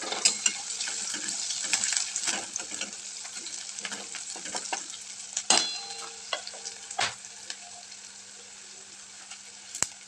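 Asafoetida stirred and fried in hot oil in a pan for a dry potato curry, with a steady close sizzle and repeated scraping strokes of a spoon, no voices.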